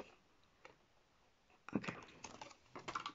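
Quiet crisp snips and paper rustles come in a short irregular burst, close and soft, with faint background noise before them.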